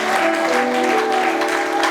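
A church congregation bursts into applause, dense and loud clapping sustained evenly throughout with a murmuring crowd beneath it.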